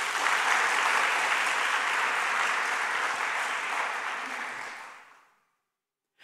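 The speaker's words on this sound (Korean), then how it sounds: "힘내라고 박수 한번 쳐주세요." A church congregation claps together during a Sunday service, a loud and dense burst of applause that holds steady, then tapers away to silence after about five seconds.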